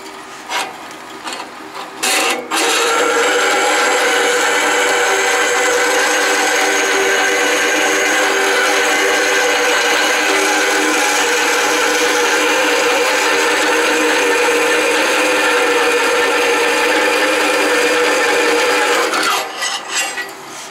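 A Delta saw converted for metal cutting runs a fine blade at about 125 feet per minute through 1/4 inch cold roll steel without lubricant, giving a loud, steady, rasping whine that holds for nearly twenty seconds before stopping.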